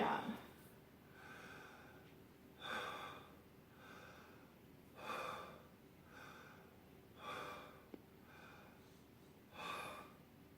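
A patient breathes deeply in and out for a stethoscope exam, making about five slow, evenly spaced breaths that are faint and close.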